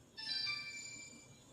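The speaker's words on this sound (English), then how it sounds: "Sorry, I gotta turn this phone off." A mobile phone ringtone chimes briefly, a bright electronic melodic tone that starts abruptly and fades over about a second, fairly quiet against low background noise.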